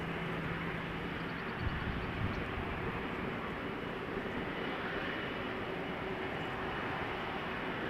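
A Hainan Airlines airliner taxis at Toronto Pearson Airport, a faint, distant, steady jet engine whine and rumble under broad outdoor noise.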